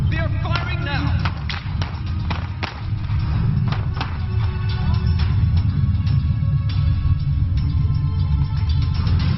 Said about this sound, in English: The commandos are moving in on the gunmen in tactical formation. They are firing now.